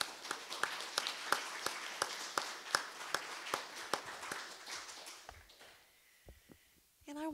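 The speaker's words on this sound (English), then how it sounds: "let's give them another big round of applause" An audience at a Sunday church service applauds, with steady rhythmic claps over a broad wash of crowd clapping that fades out after about five seconds.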